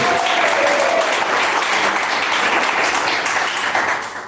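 A church congregation claps hands in praise, a steady dense wash of clapping from a crowd that holds for several seconds before tapering at the end.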